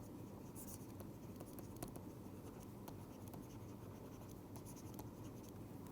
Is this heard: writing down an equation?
yes